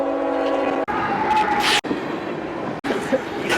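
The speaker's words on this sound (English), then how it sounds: "It's a long train." A long train passes close by, opening with a loud sustained horn blast before giving way to the heavy, steady roar of rolling cars.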